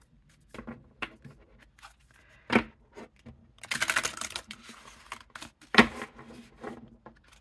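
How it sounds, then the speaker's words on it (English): Oracle cards in a deck are side-shuffled by hand, giving soft irregular papery taps and brief riffling flurries, quiet and close with no talking. "I only side shuffle, I don't rifle shuffle. But they shuffle well like that."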